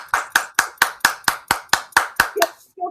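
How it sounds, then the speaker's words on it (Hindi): Loud, evenly timed claps ring out for a company founder at a public programme, about ten sharp strikes at a steady beat before they stop and a brief voice sound follows. "उनके लिए एक बार बहुत जोरदार तालियां हो"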